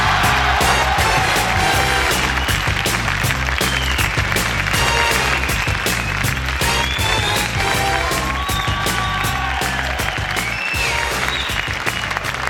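A French television studio audience applauds actress Andréa Ferréol's entrance, with loud, dense, sustained clapping mixed with cheering and upbeat music, filling the room throughout.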